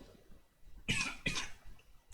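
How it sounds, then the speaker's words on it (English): Two sharp coughs close by, one right after the other, in an otherwise quiet room. "Sorry about this cough."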